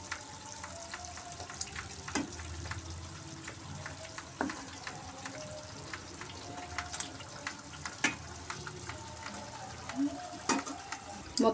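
Egg noodles being stirred into a masala curry in a pan, soft sizzling with scattered scraping and clinking of a utensil, fairly quiet and close.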